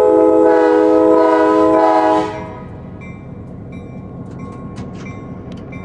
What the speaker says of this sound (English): That's actually my C&O horn on the engine.